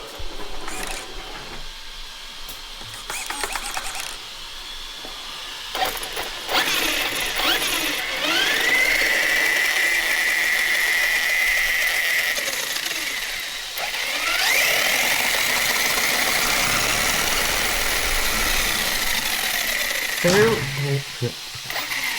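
A Hyper Go 10210 RC car powers up with its transmitter on, the electric motor whirring loudly and steadily with a rising mechanical whine and gear rattle for most of the stretch.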